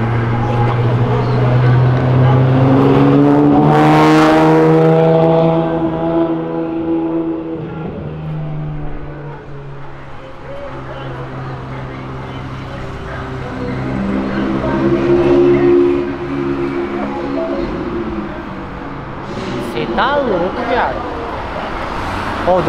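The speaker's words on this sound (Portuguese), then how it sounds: "Deu pra ouvir aquele carro vindo." A Nissan GT-R sports car engine roars and revs loudly as it approaches and passes, then fades into traffic noise while people talk excitedly over it.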